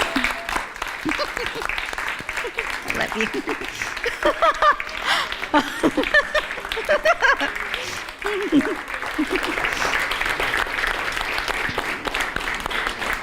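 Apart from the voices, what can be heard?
audience applause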